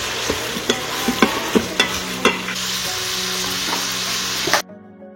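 Onions sizzling as they fry in an Instant Pot for chicken biryani: a close, steady hiss with periodic soft stirring scrapes and clinks, cutting off abruptly near the end.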